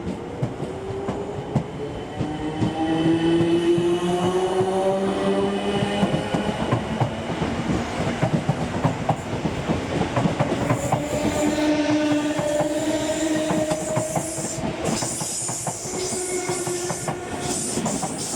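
An AP Class 455 electric multiple unit departs in Train Simulator 2021, a continuous traction motor whine with rising tonal pitches over rolling rail noise and clicking, steady and fairly loud throughout with no talk.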